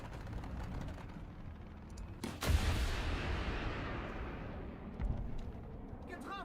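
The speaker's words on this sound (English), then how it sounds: "I'll greet you with a missile to the face" A missile launched at an enemy tank in War Thunder, a sharp loud blast followed by a long rushing roar that slowly fades, with another thud near the end.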